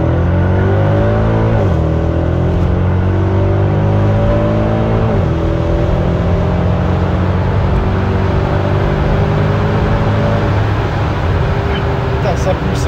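A Mercedes C63 AMG accelerating hard, its engine note climbing through gears with audible shifts, loud and continuous from inside the car with a person speaking over it.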